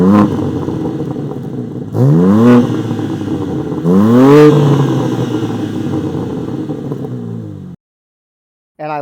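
A manual BMW M3's exhaust rumbles close by, swelling into two sharp rising revs before settling back to a steady drone, then cutting off abruptly near the end.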